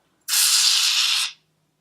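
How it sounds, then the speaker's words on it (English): An aerosol can of cooling skin primer sprays in one steady, loud, close hiss lasting about a second, starting and stopping abruptly, with silence around it. "this comes in an aerosol. You have to shake it, and then it is very loud"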